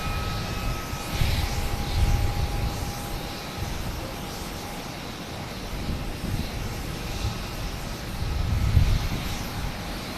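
Airliner touching down after a 14-hour, roughly 6,700-mile flight at Boston Logan, a broad steady engine roar with faint tonal whine, swelling slightly near the end.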